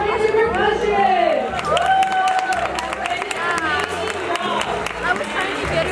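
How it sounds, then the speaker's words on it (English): A school spring rally crowd claps and cheers for the voice percussion group, a broad wash of applause with voices calling out and chattering throughout. "can we get one more round of applause for our voice percussion?"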